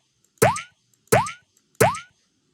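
Casual game pickup sound effect for collecting cherries: three identical short springy boing blips with a rising pitch sweep, evenly spaced, crisp and isolated against silence.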